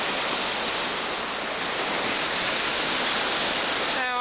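Choppy, whitecapped water slaps and rushes around a kayak in King Oscar Fjord, Greenland, making a loud, continuous broadband wash with no pause, ending in a brief tonal blip.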